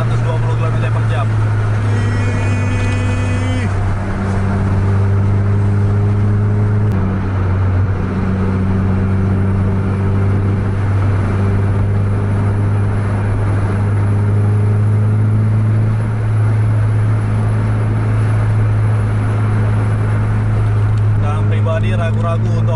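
A bus cruising fast on a highway at about 120 km/h and overtaking, its engine holding a steady loud drone with shifting tonal whine, road roar beneath and a brief horn-like tone near the end.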